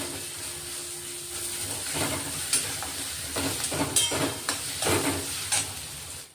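Garlic paste hits hot oil with onions and a pinch of asafoetida, bursting into a crackling sizzle that swells midway, with scattered pops and stirring scrapes over a steady frying hiss, with no voices.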